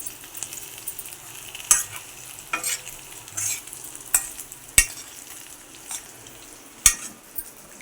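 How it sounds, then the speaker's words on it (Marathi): Spice masala and stuffed eggplants are sautéed in a pan, a low frying sizzle under sharp metal spatula scrapes and clinks against the pan that come every second or so, close by. "आता राहिलेला मसाला पण आईने टाकलेला आहे आणि तो पण मसाला त्या वांग्यात परतून घ्यायचा आहे छान"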